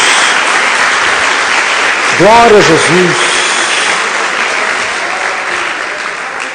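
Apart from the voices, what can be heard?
church congregation applause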